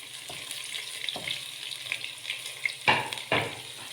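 Chopped onions sizzling and frying in hot ghee in a pan for beef paya, a steady low crackle with a few sharper sputters and stirring scrapes, close up and with no talking.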